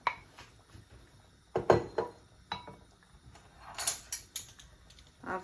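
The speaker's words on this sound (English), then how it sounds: "So add your potatoes." Potatoes go into a pot of Jamaican oxtails with a few clattering knocks and thuds against the pot, followed by scattered clinks of dishes and utensils in a quiet kitchen.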